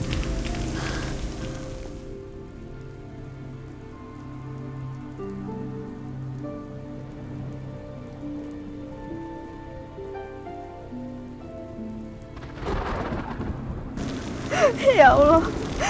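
Rain falls in a steady hiss at the start and end, with sustained musical tones and a voice in between, growing louder and more splashing toward the close.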